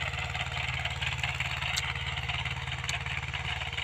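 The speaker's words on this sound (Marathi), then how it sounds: "येत आहे आता ट्रॅक्टर" A Mahindra tractor engine rumbles steadily at low pitch throughout, a constant idling-like drone with a faint rhythmic chug, fairly close, with no speech.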